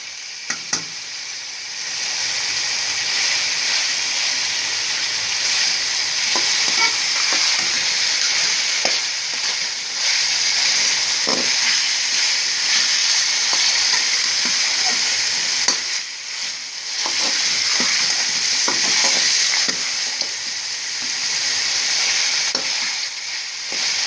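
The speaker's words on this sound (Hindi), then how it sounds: "इसको थोड़ा सा हम भूनेंगे ताकि बॉईल किया हुआ ये चिकन है इसमें मसाला जज़ब हो जाए।" Boiled chicken frying with masala for biryani, a loud, steady close-up sizzle with occasional stirring scrapes and clicks, no voices over it.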